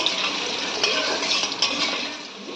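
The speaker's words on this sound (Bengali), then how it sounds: "এবার আলুগুলো আমরা ভেজে নেব" Potatoes frying in a little oil for a fish curry with potato and eggplant: a bright, close sizzle with intermittent metallic clinks and scrapes of a spoon stirring against the pan.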